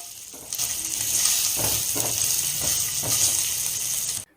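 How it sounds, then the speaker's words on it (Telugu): Spinach, onion and spices with ginger fry in a pan, a constant bright sizzle broken by a few soft stirring scrapes, close and steady until it cuts off abruptly. "ఈ మొత్తాన్ని ఒకసారి బాగా కలుపుకుంటూ వేయించుకోవాలి"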